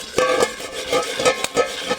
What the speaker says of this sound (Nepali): यसरी छोपेर चाहिँ भुट्नु पर्छ हो